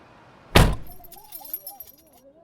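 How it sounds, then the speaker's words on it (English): A car door shuts with one loud close thud, followed by car keys jingling and rattling lightly, with a faint tonal wavering sound underneath. "The scene switches at the closing of the car door."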